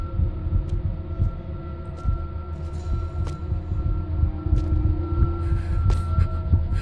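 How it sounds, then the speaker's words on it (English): A thumping heartbeat pulses steadily in the horror game The Karaoke (Hitokara), with low, regular beats over a faint hum, close and moderately loud. "I guess the heartbeat means he's just gonna catch you."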